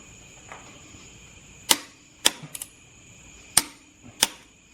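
Torque wrench tightening the CVT transmission drain plug on a 2017 Subaru Forester to 37 foot-pounds, heard as several sharp, distinct metallic clicks spaced apart, close and clear over a quiet background.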